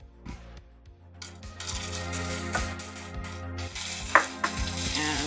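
Butter dropped into hot caramelized sugar, hissing and sizzling steadily while a whisk clinks against the pan in scattered metallic taps, close and fairly loud with no talking.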